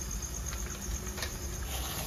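Ground spices (turmeric, cumin, coriander, black pepper and red chili powder) fry in oil for a chickpea chicken curry, giving a soft, steady sizzling patter close by with no talk.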